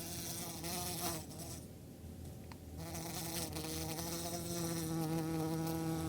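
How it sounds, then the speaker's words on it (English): A bee buzzes steadily as it flies around, a continuous faint drone that wavers in pitch, with no voices. "You might be able to hear this one making a sound over here that's flying around."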